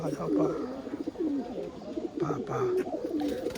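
Tula pigeons cooing in repeated soft, throaty rolls, fairly close, with other birds and room noise behind them.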